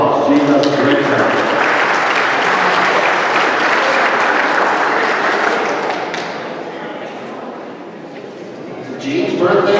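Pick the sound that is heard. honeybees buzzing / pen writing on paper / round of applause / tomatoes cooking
round of applause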